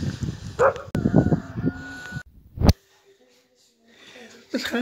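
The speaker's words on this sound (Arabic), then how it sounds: "والله يشافيك السي الكلب." An injured dog with a hurt leg whimpers and gives short yips and barks at close range in a rural sheep-shearing setting, with people talking over parts of it.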